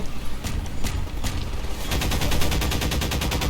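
Gunfire in the video game Half-Life 2: scattered close shots at first, then a dense rapid burst of automatic fire rattling steadily to the end, loud and with no talk.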